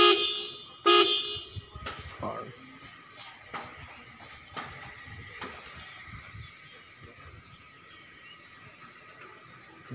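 The horn of a new-model 1616 bus chassis sounds two short, loud blasts in quick succession, followed by a run of faint clicks and knocks that trail off into quiet.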